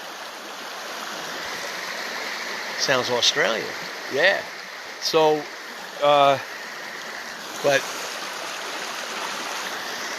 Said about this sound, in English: this little stream is called the Buckaboom.